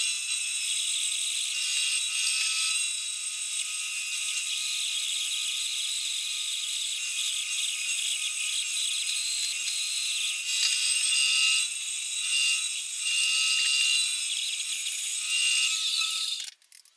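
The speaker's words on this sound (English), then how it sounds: "So there we have it off the bandsaw." A bandsaw cuts through the wood of an SG junior-style electric guitar body, a steady high-pitched whirring rasp that runs continuously and evenly before stopping abruptly at the end.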